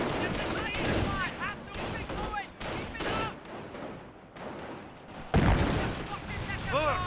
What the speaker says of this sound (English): Got a mortar hit there.